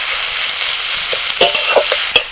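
Chopped onions frying with salt in a pan for onion posto, a constant close sizzle with several scraping strokes of a spoon stirring through them.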